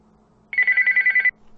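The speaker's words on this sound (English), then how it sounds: "the phone rings again" A telephone rings in a quiet indoor room, one bright continuous trill lasting under a second with a rapid pulsing warble, heard up close and alone with no voices.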